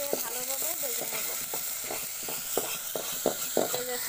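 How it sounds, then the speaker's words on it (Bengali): Cardamom pods and cinnamon sticks frying in oil in a pan, a steady sizzle with a quick run of rhythmic scraping stirs, a voice briefly audible at the start. "এখন 4টি এলাচি দিয়ে দিলাম, দিয়ে ভালোভাবে ভেজে নেব।"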